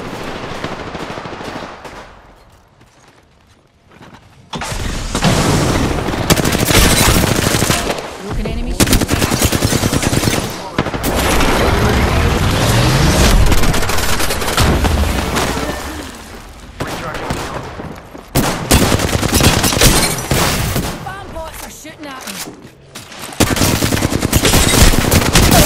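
Rapid automatic gunfire from a video game in long, loud bursts with brief gaps between them, dense and continuous, with game voice callouts mixed in.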